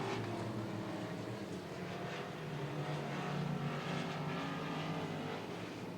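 Race cars circling Cotton Bowl Speedway, a continuous blended engine roar heard from a distance, steady and fairly faint with slight swells as cars pass.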